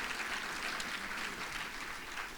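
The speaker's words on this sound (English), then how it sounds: "Let's give her a round of applause." Steady audience applause at a university retirement ceremony, a dense, even patter of clapping from a crowd that holds at a constant level throughout, with no talking over it.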